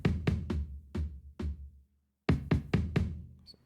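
Drum hits with a basement rehearsal-room reverb strike in a quick, uneven pattern of sharp knocks that decay into a short room tail, pausing briefly before another burst of hits.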